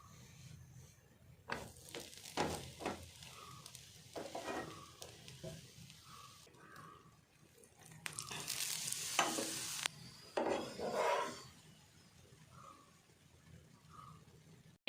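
Methi paratha, a fenugreek-leaf flatbread, roasting on a hot pan, giving soft sizzling and frying hiss with scraping and stirring sounds from turning it, close and steady, with no talk.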